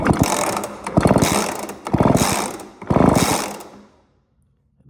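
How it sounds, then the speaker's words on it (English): The starter rope on an old McCulloch 10-10A chainsaw is yanked three times, each pull giving a loud ratcheting whir of the recoil mechanism, and the sound stops abruptly into silence at the end. "we're gonna see if it has spark by pulling on the pull rope."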